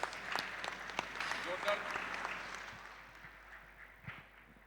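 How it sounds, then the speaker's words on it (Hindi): Applause from a crowd at a student parliament panel discussion, a dense patter of clapping that gradually fades, heard at moderate distance. "जोरदार तालियों से इस युवा उद्यमी का हौसला बढ़ाइए"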